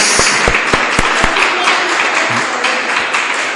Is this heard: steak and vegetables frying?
no